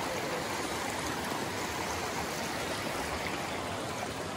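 Siouxon Creek flowing steadily nearby, a loud, continuous broadband rush of river water with no pauses or voices.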